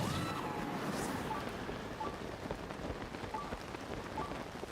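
Steady rain in a video game, with a faint storm rumbling in the distance and a constant hiss of drops on surfaces, heard alone without talk.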